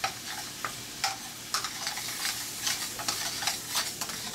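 Butter sizzling in a pan with flour for a roux, a continuous hiss broken by soft rhythmic scraping strokes of stirring at roughly half-second intervals, close and moderately quiet.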